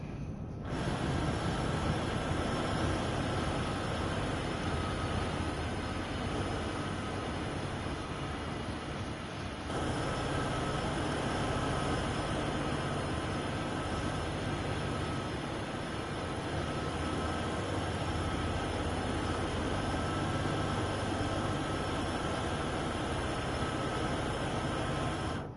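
Train in Train Sim World 4 rumbling steadily and loudly, a continuous close mechanical drone with a sustained high whine that cuts briefly near the middle and resumes, no talk.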